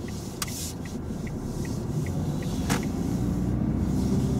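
Car driving steadily during a driving test, a low continuous engine and road rumble with faint ticking throughout, no talk.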